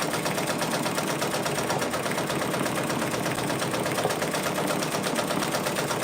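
A Brother Persona PRS100 embroidery machine stitches patches with a fast, even mechanical whir and rapid needle chatter, steady and close throughout.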